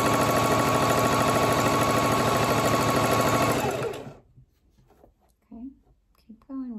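Sewing machine stitching fabric for a ribbon trim tutu, its needle running in a fast steady rhythm, loud and close, for about four seconds before stopping; a person then speaks softly.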